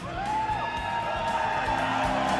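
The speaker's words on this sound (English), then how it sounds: "A lot of chants from this crowd who love you so much" Dense crowd noise at a StarCraft II World Championship Series Global Finals semifinal, steady and loud with cheering, whoops and chant-like swells throughout, no single voice standing out.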